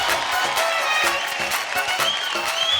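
Audience applause on the dance competition show India's Best Dancer 3, a steady dense wash of clapping from a studio crowd with faint sustained music beneath it.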